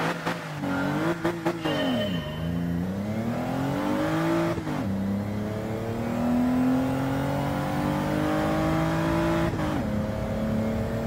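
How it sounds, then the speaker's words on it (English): In Gran Turismo 7, a car engine revs up and down repeatedly, pitch climbing through gears then dropping, loud and close with brief clunks between shifts. "Probably shouldn't be revving it out that high."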